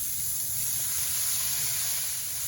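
Cabbage dropped into a hot frying pan for Filipino pancit noodles, giving a steady close, loud sizzle and hiss with no talk.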